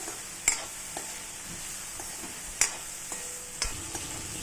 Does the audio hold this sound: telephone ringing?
no